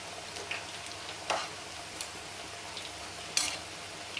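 Multigrain pakodi fry in hot oil with a soft, steady sizzle, punctuated by a few faint clicks and taps of a utensil.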